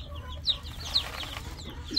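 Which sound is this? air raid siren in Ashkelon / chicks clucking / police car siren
chicks clucking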